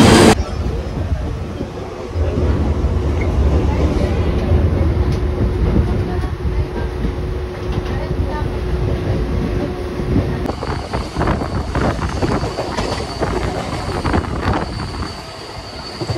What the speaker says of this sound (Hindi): ये आ गई हमारी ट्रेन